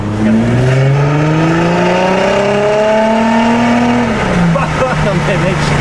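An Audi A5 3.0 TDI diesel accelerating hard to overtake, its engine note climbing through rising gear pulls before dropping at a shift, loud and close from inside the car.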